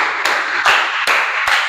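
A classroom group claps hands in a steady rhythm, sharp, even claps about every 0.4 seconds, four beats in all, fairly loud, with no talking.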